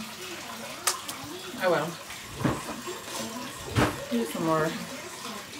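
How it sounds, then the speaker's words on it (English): Water runs from a tap in a home bathroom, a steady wash heard beneath a voice as she talks, with a few brief knocks and splashes. "Turn the water off, girl."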